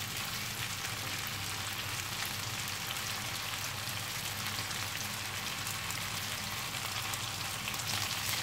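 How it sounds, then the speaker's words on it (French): Sautéed potatoes frying in a pan, a steady dense sizzle and crackle, even and continuous at moderate loudness with no voices. "Là, on va laisser cuire gentiment pendant 5 bonnes minutes"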